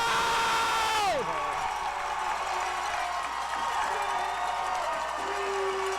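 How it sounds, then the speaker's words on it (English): At a Kamloops Broncos at PG Kodiaks football game, a large crowd roars and cheers after a touchdown, a loud sustained wash of whoops and shouts. A whistle-like tone sweeps down at the start. "And the crowd is up on their feet."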